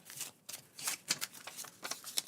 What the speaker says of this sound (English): when you're done shuffling